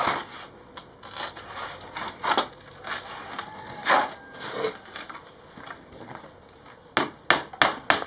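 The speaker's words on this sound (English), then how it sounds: "Then we add on glue to join them together, and we hit them with the hammer, and that is solid." Repeated hammer blows on bamboo pieces glued together for a bamboo ceiling in a village building, a run of sharp knocks at an uneven pace with quieter rubbing between, ending in three quick sharp taps.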